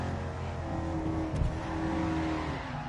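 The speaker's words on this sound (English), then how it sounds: "it's running a 3-inch exhaust with long headers" Loud truck engine fitted with a 3-inch exhaust and long 3-inch headers, holding a steady rumbling drone throughout, with a brief sharper pop near the middle.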